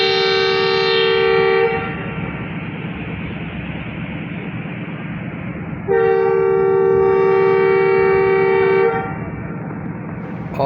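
Horn of the Jaffar Express train engine at departure, a loud, close, sustained two-tone blast that drops away after two seconds, then sounds again for about three seconds over a steady rumbling background.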